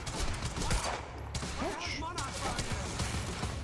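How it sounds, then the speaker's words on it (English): Scattered gunshots crackle in a busy video game mix from Quantum Break, with voices talking and shouting over the top throughout. "You heard the gunfire."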